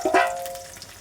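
Sliced onion and slit green chillies fry in hot oil, a brief close sizzle that flares sharply at the start and then settles into a softer, fading crackle.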